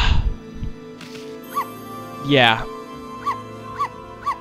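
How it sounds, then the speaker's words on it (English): A high-pitched, squeaky cartoon dog bark from the Okami video game sounds several times in short, evenly spaced yips after a rising whine, over game music, with a player speaking briefly at the start. "Listen to that bark."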